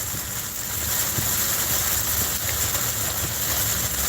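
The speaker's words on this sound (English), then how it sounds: "It's raining out here." Rain during a drive, a steady broadband hiss of drops and road noise with a low rumble underneath, constant and fairly loud throughout, with no talking.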